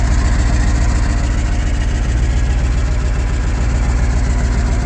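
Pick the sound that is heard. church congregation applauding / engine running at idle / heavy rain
engine running at idle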